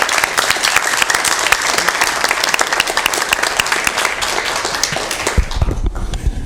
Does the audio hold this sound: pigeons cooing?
no